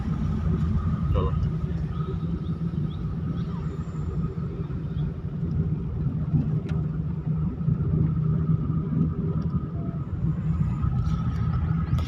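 A manual car on a driving lesson, engine droning steadily in the cabin at moderate loudness while the learner moves up to fourth gear, with a low continuous rumble and an instructor talking over it.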